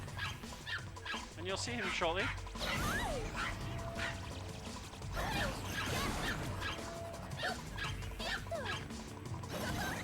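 A Pomeranian barks and yips in the video game Ranko Tsukigime's Longest Day, breaking out in short bursts over busy game music and effects while someone talks throughout.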